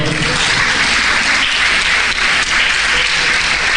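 A church congregation claps for the Lord in a loud, continuous wash of many hands that stays steady and close, with no talk over it.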